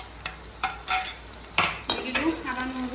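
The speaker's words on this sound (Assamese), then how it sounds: "আদা নহৰুটো ভালকৈ ভাজি ল'ম।" Ginger garlic paste fries with onion in a pan, and a metal spatula clacks and scrapes in several distinct strokes over a steady, quiet sizzle.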